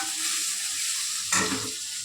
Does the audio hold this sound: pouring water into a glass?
no